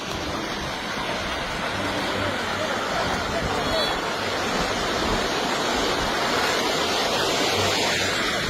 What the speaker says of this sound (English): The sound of this landslide is so intense that it reminds me of a raging river